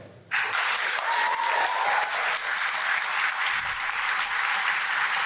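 A large crowd at a heated public debate breaks into sustained applause, starting abruptly and holding loud and steady throughout, a dense wash of many hands clapping with no speech over it.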